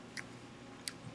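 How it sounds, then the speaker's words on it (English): Close, quiet chewing of a salad with bacon, blue cheese and lettuce, with two short crisp crunches standing out from soft mouth sounds, no talking. "You can't see it, but you can hear me chewing it."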